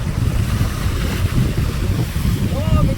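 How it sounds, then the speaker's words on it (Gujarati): Water churns and splashes around a boat out on the open sea, a steady rushing wash that continues throughout, mixed with heavy wind buffeting the microphone. "હા તો પાણી ઉઠશે હમણાં"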